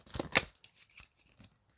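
Tarot cards riffle and slap together in a few close, crisp bursts, loudest at the start and then trailing into softer handling sounds.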